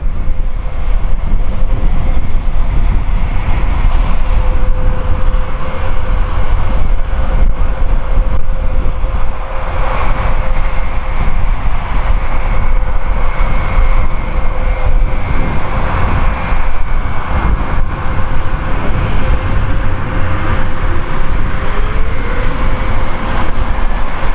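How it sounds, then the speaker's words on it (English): Airbus A400 and A350 engines run at Farnborough Airshow 2016, a loud, continuous turbine roar and whine that holds steady throughout with slight swells. "A400 engines turning and burning on the north side."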